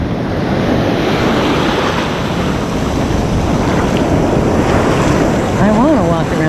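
Big ocean waves breaking on a beach at Caspersen, a continuous loud wash of surf mixed with heavy wind buffeting the microphone, with a brief faint whistle near the end.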